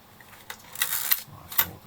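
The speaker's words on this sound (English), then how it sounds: "I release the shutter there." Exa 11a single-lens reflex film camera being wound on and its front-mounted shutter released, giving a few sharp, close mechanical clicks and snaps spread over a couple of seconds with no talking.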